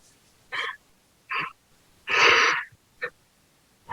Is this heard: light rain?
no